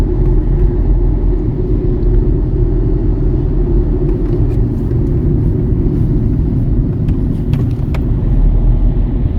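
A city bus (a rythmo) drives alongside, its engine giving a steady, loud low rumble that holds for the whole stretch, with a few faint higher clicks and rattles near the end.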